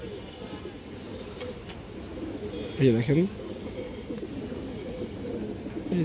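A female pallah-line pigeon gives one short throaty coo midway through, rising briefly above steady background noise while someone speaks.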